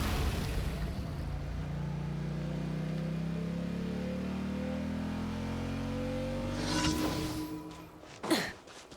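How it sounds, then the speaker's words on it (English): Engine revving in Genshin Impact, a low droning roar that swells and sweeps upward in pitch for several seconds, then fades under a couple of sharp whooshing bursts. "Rev the engines!"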